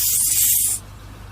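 Sharp, loud burst of air hissing from a tire compressor nozzle as it is screwed onto the valve, lasting under a second before cutting off to quiet background.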